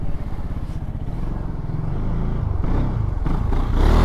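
A 2023 Kymco Xciting 400 scooter accelerates hard on a straight road, its engine drone pulsing and rising steadily in pitch over a few seconds, close and loud with rushing wind.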